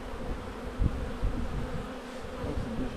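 Honey bees buzz around a hive, a steady close drone with a few louder passes of individual bees near the microphone.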